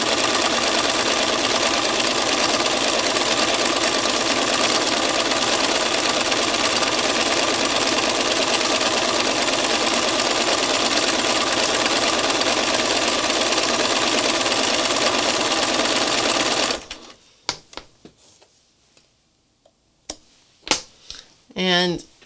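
A sewing machine runs steadily and loud, doing free-motion wonky stitching with King Tut thread for flower work, for most of the stretch before stopping abruptly, followed by a few faint clicks and handling noises.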